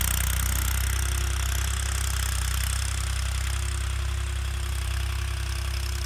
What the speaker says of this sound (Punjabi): ਲਓ ਦੇਖੋ ਜੀ ਖੇਤ ਲੇਜ਼ਰ ਹੁੰਦਾ ਟਰੈਕਟਰ ਆਪਣਾ ਜ਼ੋਰ ਮਾਰਦਾ ਹੋਇਆ